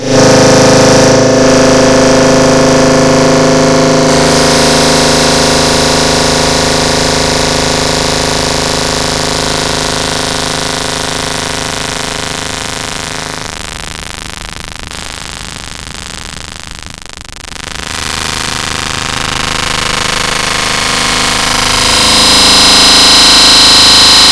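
Several Honda Moto3 racing motorcycles at a Grand Prix race, a loud, sustained high-revving engine roar that dips briefly mid-way before surging back, with no talk over it.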